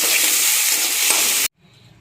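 Loud, close sizzle of sliced onion, ginger and tomato sautéing in a hot pan for about a second and a half, then it stops abruptly, leaving faint low sounds.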